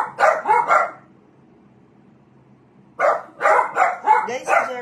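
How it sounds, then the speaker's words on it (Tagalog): Dogs bark in two quick bursts of several sharp close barks each, separated by a quiet pause, loud and lively as if squabbling with each other. "Bigyan natin ng moment yung mga aso."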